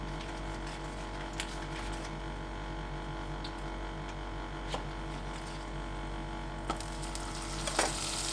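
Butter sizzling in a frying pan while making Salisbury steak, a steady crackling hiss with a few sharper clinks of utensils near the end, close and with no talking.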